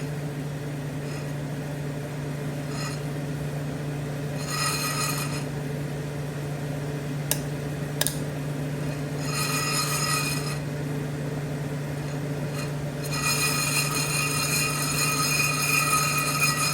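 Green coffee beans roasting in a stovetop roaster give scattered bursts of sharp crackling over a steady low hum, the pops coming in short clusters and growing denser toward the end.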